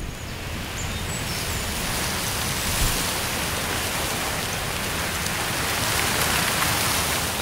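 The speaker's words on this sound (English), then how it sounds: "the clouds pour rain onto the swampy land" Heavy rain pours down steadily onto swampy land in the Netherlands in a dense, even hiss, loud and continuous with no other sounds standing out.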